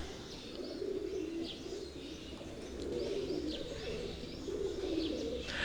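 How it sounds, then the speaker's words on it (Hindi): Pigeons coo softly in repeated low, rolling calls, with a few faint chirps from other birds in the background. "बड़े शानदार कबूतर हैं ये"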